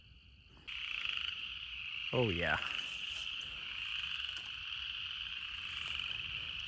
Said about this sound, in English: tons of upland chorus frogs calling down here